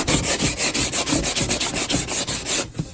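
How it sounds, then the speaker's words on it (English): Sandpaper rubs back and forth across a fiberglass Subaru spoiler in quick, even strokes, a close rasping scratch repeating about five times per second before stopping. "And now it's time to sand it smooth."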